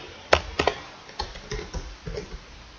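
Computer keyboard typing as code is entered, a handful of sharp clicks at an irregular pace, one louder keystroke near the start followed by lighter scattered taps, close and fairly quiet with no talking.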